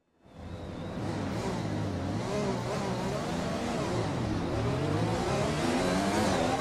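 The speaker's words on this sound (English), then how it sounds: "almost time for lights out" An F1 race car engine in the F1 2020 video game at Spa, a steady, loud revving drone with shifting pitch that rises in as the clip begins and carries on with no talk.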